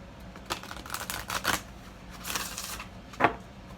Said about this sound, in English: I'm shuffling, y'all. I'm shuffling.